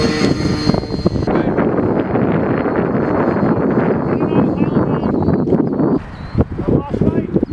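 An Apprentice model aircraft with Raspberry Pi and Navio2 autopilot flies nearby, its motor a steady loud drone heavily buffeted by wind noise, with voices reacting over it.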